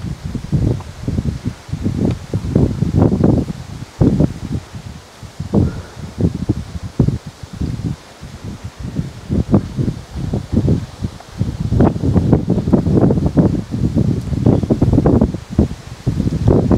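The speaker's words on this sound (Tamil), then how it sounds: "காற்று பாருங்க" Gusty wind sweeping through trees on an island at Parambikulam dam, loud swelling rushes of rustling leaves that rise and fall in waves, close to the microphone and with no talking.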